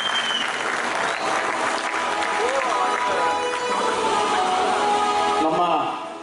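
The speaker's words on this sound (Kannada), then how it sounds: "ಅವ್ರ ಒಳ್ಳೆ ಮನೋಭಾವಕ್ಕೆ ಒಂದು ಜೋರಾಗಿ ಚಪ್ಪಾಳೆ ಹೊಡಿ." A gathered crowd at a village pigeon tournament breaks into loud, sustained applause, with some voices audible underneath the clapping throughout.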